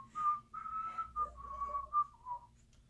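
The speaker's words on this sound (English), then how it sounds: "We're just gonna whistle it off." A person whistles the Animaniacs theme tune as a show outro, a clear close melody in short phrases with small pauses between notes, alone with no talking.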